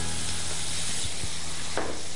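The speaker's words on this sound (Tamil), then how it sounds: "புளியை இதில் ஊற்றுங்க." Tamarind water hits a hot pan for a chutney, making a steady broad sizzle with a soft hiss that runs the whole time, plus a brief stronger burst near the end.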